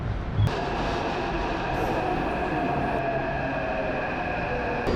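Inside a Taipei metro train on the green line, a steady loud rumble of wheels and motor hum with a sharp clunk near the start and a high whine running underneath.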